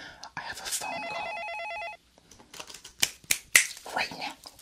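A telephone rings at a rude receptionist's desk in an ASMR roleplay, a steady electronic trilling bell lasting about a second before whispered, close-up talk and sharp clicking taps follow.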